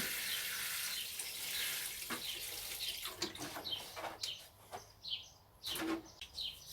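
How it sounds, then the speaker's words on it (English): Water poured deeply around the base of a container-grown melon plant, mixed with tomato feed, in an outdoor allotment garden; steady splashing trickle at first, then broken bursts as the flow shifts, with faint birdsong in the background. "So I'll give that a nice deep watering all around the bottom of that plant."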